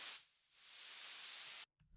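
Bright synthesizer white noise from the oscillator 3/noise panel, a steady broadband hiss that dips briefly then swells back, cutting off abruptly near the end before a faint low rumble returns.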